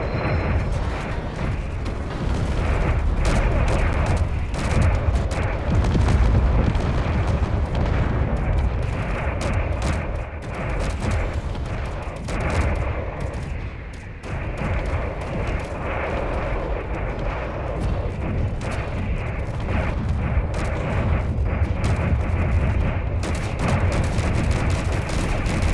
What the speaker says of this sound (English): Oh, fireworks here.